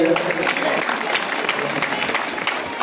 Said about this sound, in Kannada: ತಮ್ಮ ಜೋರಾದ ಚಪ್ಪಾಳೆಯೊಂದಿಗೆ